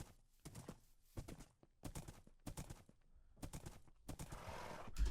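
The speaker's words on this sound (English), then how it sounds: "I should just actually bring the horse over to the hut now." A horse in the modded Minecraft pack Sevtech clops along in short bursts of hollow hoofbeats, moving near and fairly loud with brief pauses between steps.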